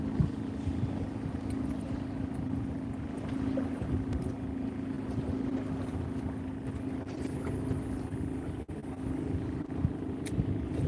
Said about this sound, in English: Scooter boat out there.